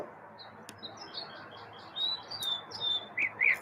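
A pet bird chirps in short, high, bright tweets, sparse at first and then coming in a quicker run of close, fairly clear calls over a quiet indoor background.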